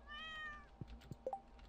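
A cat in Stardew Valley gives a clear, close meow with a rising and falling pitch, followed by a few soft game clicks and thumps.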